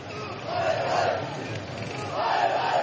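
Protesters on the Neelum bridge chant slogans against police over a street vendor's alleged death in custody: a loud, massed crowd of voices rising and falling in two rhythmic swells.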